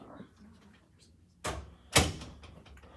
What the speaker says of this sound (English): We're gonna close the door.